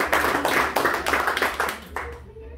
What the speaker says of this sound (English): Please clap for my